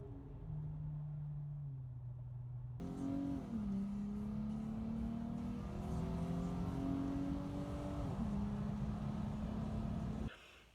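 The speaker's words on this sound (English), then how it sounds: "pulling out, accelerating from a stop, full throttle, that's when this shift kit comes alive" A Nissan Frontier pickup fitted with a shift kit accelerates hard from a stop at full throttle, the engine note climbing and then dropping sharply at quick, firm gear changes, loud and steady with no talk.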